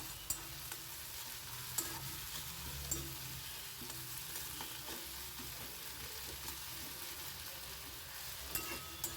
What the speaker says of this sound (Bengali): মেথি তেজপাতা সাদা জিরা আর শুকনো লঙ্কা ফোড়নে